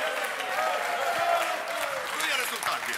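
Studio audience on a Croatian TV quiz show breaking into steady applause, a dense patter of clapping that holds for the whole stretch, with a faint voice in the background.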